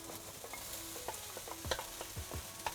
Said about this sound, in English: You can saute this for around 3 to 5 minutes, depending on how soft you want those veggies.